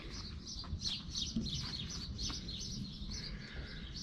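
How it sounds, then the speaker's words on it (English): Small birds chirp and tweet repeatedly in the background in the early morning at Belgrade Fortress, Serbia, a steady chorus of light calls with a low ambient hum beneath. "Like when I stop for a sec, all you can hear is the birds."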